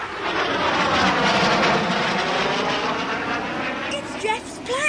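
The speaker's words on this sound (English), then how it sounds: "It's Jeff's plane!" A propeller plane drones overhead, loud and steady, then dips and eases as it comes in to land, heard as an audiobook sound effect with no voices over it.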